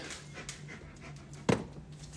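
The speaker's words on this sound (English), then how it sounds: "Look, feeding my dog." A dog pants in quick, soft breaths close by, with a short sharp noise near the middle of a quiet stretch and no talk.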